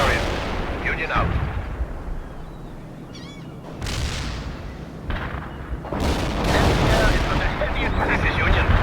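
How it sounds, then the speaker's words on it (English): An artillery barrage in the war game World in Conflict, made of repeated heavy booms and rumbling blasts that swell and overlap, loud and sustained, with bursts of debris-like crackle between the impacts. "Firing a tight barrage at the target area"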